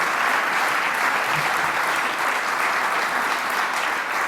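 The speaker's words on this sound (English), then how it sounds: "So a nice round of applause for our hostess." Sustained applause from a crowd, a steady dense wash of clapping throughout.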